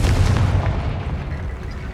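Explosion from the Confringo fire spell in the Hogwarts Legacy video game: a loud, deep booming blast that rumbles and slowly fades over two seconds, with no talking.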